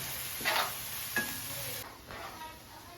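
Spice paste frying in oil for a Konaseema-style murrel fish curry, a soft hissing sizzle with a couple of stirring scrapes, close but quiet, no talk.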